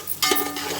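A spiced potato curry with masala and shahi jeera is given a brief stir in a hot pan, a quick scraping stroke over a soft, continuous sizzle, close and short.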